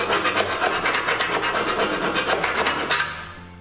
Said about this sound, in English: filing off any sharp edges we may have created until we can run our finger down it and it feels smooth